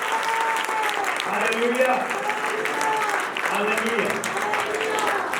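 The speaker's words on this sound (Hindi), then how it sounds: "जोरदार ताली बजाएं, जोरदार।" Applause from a church congregation during a worship service, steady clapping throughout under a voice calling out praise.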